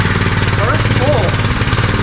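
A 196cc go-kart engine sputters and runs roughly right after being pull-started, loud and close with an uneven chugging rhythm, and a voice talks over it.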